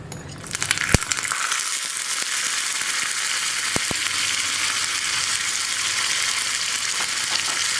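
Raisins and cashews fry in a pan for semiya payasam, a loud continuous sizzle close by with a few sharp pops and crackles scattered through it.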